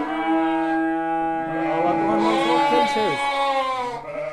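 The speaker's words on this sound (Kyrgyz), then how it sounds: "Койруктары чоң койлор экен, тандалма." Hissar sheep at a livestock market bleat in a long, wavering, nasal call. Another voice-like cry overlaps it partway through, close and loud.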